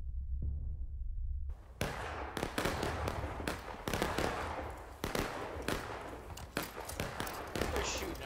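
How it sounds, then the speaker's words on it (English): Gunfire in the American Civil War game War of Rights, with musket shots cracking in an irregular run of sharp reports after a quiet start, mixed with other battle noise. "They're shooting already at their respawn."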